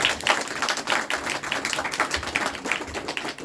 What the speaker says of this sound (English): So we'll give a round of applause to Mani.